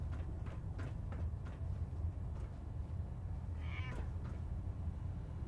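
A cat meowing in the game Fallout 4, a couple of short rising mews over a steady low game-ambience hum, moderately close and alone without talk.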